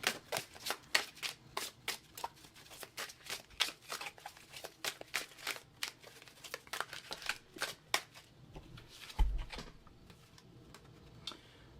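Lenormand cards being shuffled by hand, a rapid run of crisp riffling flicks and papery slaps at close range, with a brief soft thump near the end and no talking.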